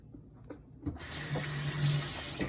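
Tap water running into a sink while hands are washed, a steady close splashing stream that starts after a few soft clicks and knocks and continues to the end, with no talking.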